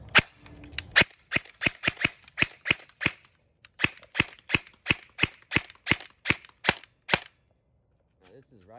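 A VFC Avalon PDW airsoft gun fires on semi-auto, about twenty sharp, evenly spaced cracks in a quick steady rhythm, close and loud, followed by a brief pause and a faint voice.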